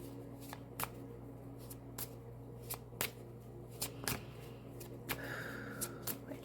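Tarot cards are shuffled by hand in a run of crisp riffling snaps and slaps at roughly half-second to one-second intervals, close and clear over a low steady hum, with a brief faint tone partway through.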